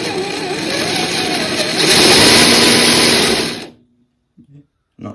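An SCX10 II RC crawler fitted with new aftermarket axles runs its electric motor in a loud, steady whir for several seconds, rising slightly in the middle before cutting off abruptly, with a few faint knocks afterward.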